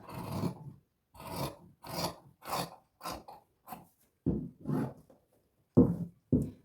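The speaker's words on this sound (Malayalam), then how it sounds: "ബാക്കിലെ പീസ് നമ്മൾ കട്ട് ചെയ്യുവാണ്" Scissors cut the back piece of a size 38 bra from fabric in a run of short, crisp snips and rasps with irregular pauses, close and fairly quiet.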